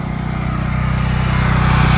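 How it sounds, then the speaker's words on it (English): A Champion dual fuel generator runs outdoors with a steady, loud engine drone and a fast regular pulsing throb, rising slightly in level, with no talking. "you can hear the Champion dual fuel is out there running right now"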